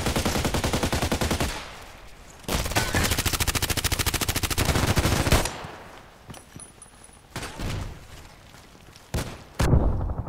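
Loud bursts of automatic gunfire in the online shooter Contract Wars, with long rapid volleys broken by short pauses and a few isolated shots, close and dense.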